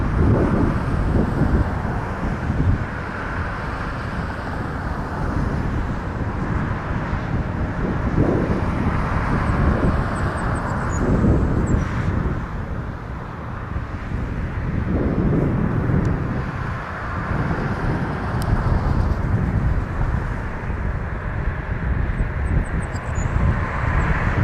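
At Toronto Pearson airport, an airplane engine roars steadily and loudly for the whole stretch, rising and falling slightly, with wind buffeting the microphone and no talk.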